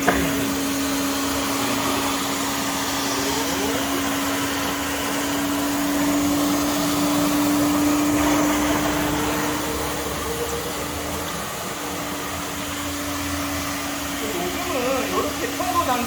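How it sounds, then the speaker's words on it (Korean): Continuous motorized whir of a wet ride-on floor scrubber, brushes scrubbing and rear suction bar drawing up dirty water, droning steadily with a faint tonal hum, fairly close. "청소하실 때는 브러쉬를 내리고 뒤에 흡입바를 내리고 그러면 솔질을 하고 뒤에 오수물을 빨아들이고"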